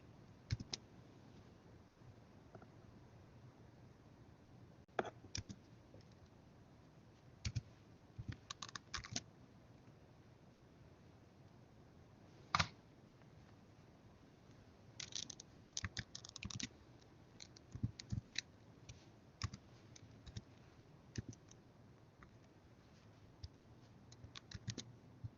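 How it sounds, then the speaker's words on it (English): Live typing on a computer keyboard, with irregular bursts of fairly quiet key clicks and occasional louder keystrokes spread across the stretch, separated by short pauses and carrying no talk. "typing live"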